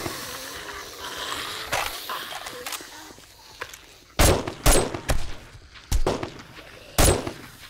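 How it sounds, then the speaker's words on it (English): Sharp gunshots from shooting zombies in 7 Days To Die, Version 1.0, fired as several loud, separate bursts in the second half after a quieter, busier stretch of game noise. "I can actually just shoot you guys in the face."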